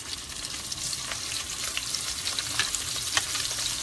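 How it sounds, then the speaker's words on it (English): Salty cheese fries in a skillet with a continuous crackling sizzle at moderate volume and a few light scraping taps. "So I'm gonna fry that in the skillet"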